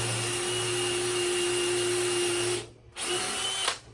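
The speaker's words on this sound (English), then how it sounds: "Drill down and then clear off the spot." Power drill fitted with a 3/16 bit pre-drilling into wood, a steady loud whirring run that cuts off briefly, then starts again with a short second burst, no talking.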